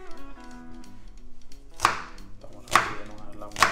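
A knife cuts an onion for a roast pork dish, landing three sharp, separate chops on a board against a quiet background.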